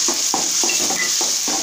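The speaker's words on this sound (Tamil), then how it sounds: "அந்த அரைச்ச மசாலாவை அதில் ஊற்றிக்கோங்க. போட்டுட்டு நல்லா கிண்டிட்டு" Ground masala sizzles in hot oil for a South Indian chicken gravy while a spoon stirs it in quick regular strokes, about six scrapes over a constant close frying hiss, with no voices.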